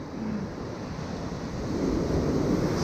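Big ocean waves breaking and surging beneath a DJI Ryze Tello micro drone flying low, a steady roaring wash with wind noise that builds slightly toward the end, with no voices.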